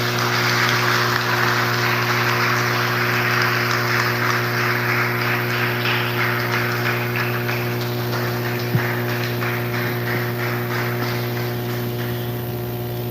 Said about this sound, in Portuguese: você aplaude o Senhor Jesus com bastante alegria